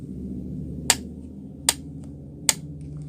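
Three sharp, evenly spaced taps, roughly one every 0.8 seconds, sound alone over a low steady background hum as an example of a regular rhythmic beat.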